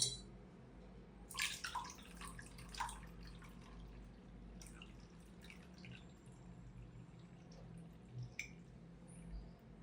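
Cooled onion skin water strained through a filter makes a faint, close trickle with scattered small drips, soft and irregular over a low room hum, with no voices.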